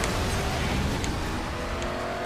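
Cars rush past in the video game Stuntman Ignition, a dense continuous roar of engines and road noise, loud and steady with no talk.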